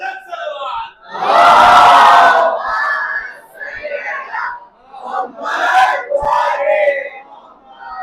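A large majlis audience shouting together in unison, with a loud swelling collective cry that rises and falls in several bursts, close and filling the hall.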